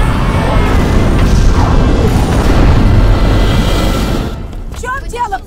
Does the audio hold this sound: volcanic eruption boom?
yes